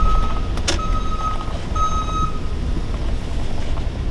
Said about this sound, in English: What's that beeping noise? Oh, that's a city handicap bus.